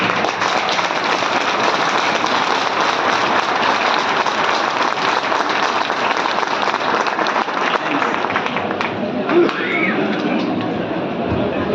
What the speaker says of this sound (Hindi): ऐसे महागुरु के लिए मैं चाहता हूं एक बार खड़े होकर जबरदस्त ताली चाहिए